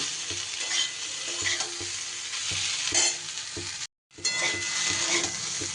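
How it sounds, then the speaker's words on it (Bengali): Yardlong beans and potato stir-fried on a low flame give a steady close sizzle with repeated scraping stirs in the pan, briefly cut to silence near the end before the frying resumes. "আমি প্রায় লো ফ্লেমে দু মিনিটের মতন ভাজা ভাজা করে নেব নাড়াচাড়া করে"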